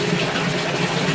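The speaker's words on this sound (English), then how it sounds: "Look at the water we're moving." Rainwater from a light drizzle pours steadily out of a French drain pipe, a continuous close, rushing gush with no voices.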